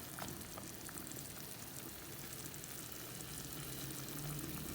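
Green peppers soften in a pan without salt or water, giving a quiet, steady sizzle with faint crackles and light bubbling, continuous and close.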